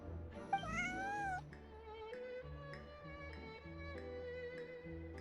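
Bonnie the cat in Genshin Impact gives one clear rising meow over soft game background music, followed by quiet ambient music with light ticking tones.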